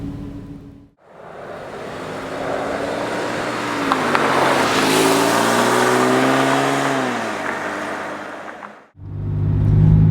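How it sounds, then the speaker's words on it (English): A Porsche 911 997 Carrera S with Tiptronic gearbox drives on the road, its engine droning steadily with rising and falling pitch as it accelerates and shifts, close and loud for most of the stretch. "Out on the road in the Carrera S"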